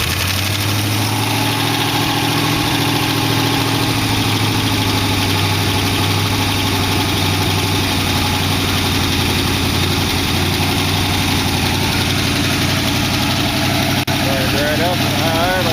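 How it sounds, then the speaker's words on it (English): A 1914 car engine runs at high idle with a steady, loud rumble and constant vibration throughout, while people talk faintly over it. "It's on the first notch of the high idle."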